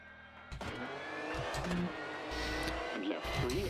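A rally racing video game car engine drones steadily throughout, its pitch wavering as the car accelerates and brakes, with someone talking over it.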